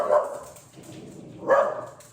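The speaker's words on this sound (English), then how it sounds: "My dog sees a squirrel, sorry." A dog barks twice at a squirrel, a loud close bark at the start and another about a second and a half later, with quiet between them.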